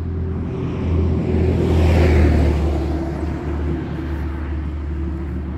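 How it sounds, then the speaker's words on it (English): A large truck rumbles past outdoors, its low engine drone swelling to a peak midway and then easing off as it moves away, steady and fairly loud with no talking. "there's a big truck coming"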